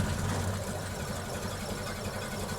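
A 1930 Model A Ford Tudor engine turns over at a slow idle, a steady, close, low rumbling chug that keeps an even rhythm throughout with no voices.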